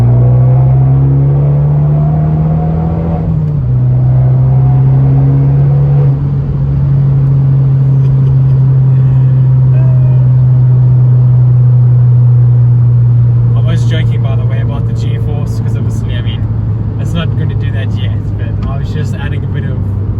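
A modified car pulls hard at full throttle in third gear, its engine drone rising steadily and loudly for most of the run before easing off, with a voice speaking over it and faint crackles near the end.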